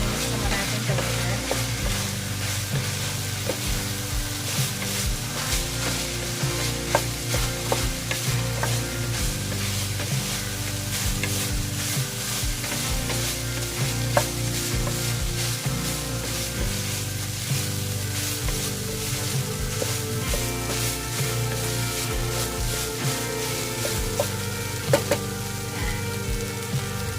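Garlic and onion sautéing in a pan for beef giniling with vegetables, a dense continuous sizzle with crackling pops and frequent stirring scrapes over nearly half a minute, no talking.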